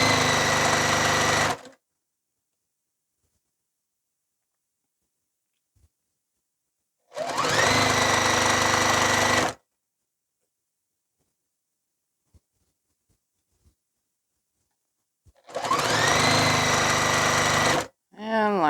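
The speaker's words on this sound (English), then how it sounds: "now I'm just going to go ahead now and grab a different unit and sew all these together" A sewing machine runs in three loud bursts of steady rapid stitching, each lasting about two seconds, with long silent pauses between them.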